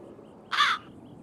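A single crow gives one harsh, loud caw at close range, lasting about a quarter second against a quiet outdoor background.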